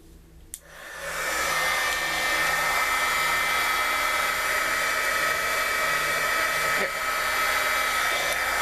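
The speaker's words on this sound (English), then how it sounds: "I'm gonna turn on my heat gun. I'm gonna let it warm up for a bit" Heat gun for melting embossing powder switches on after a click and runs as a steady, loud, continuous blowing whir with a high whine, unbroken to the end.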